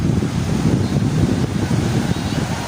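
Waves and surf of the Pacific Ocean breaking over a rocky shallow shore, a steady broadband wash and roar with wind buffeting the microphone throughout.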